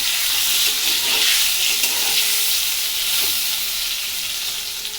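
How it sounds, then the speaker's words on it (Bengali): Eggplant slices fry in hot oil in a home kitchen pan after fish, giving a steady, close, dense sizzle and crackle throughout with no talking. "মাছ ভাজার পরে বেগুনটা একটু ভেজে নিচ্ছি"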